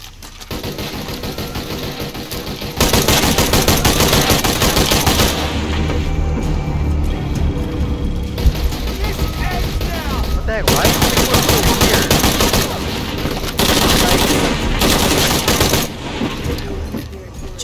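Combat in the video game Shadow of the Tomb Raider: loud, sustained bursts of gunfire and rapid automatic shots with booming impacts over a dense, continuous game soundscape, without a break for the whole stretch.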